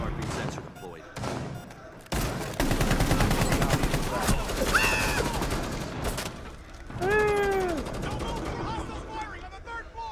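Gunfire from hostiles in Rainbow Six Siege terrorist hunt: scattered loud shots and dense bursts of rapid fire, with voices talking and shouting over the shooting.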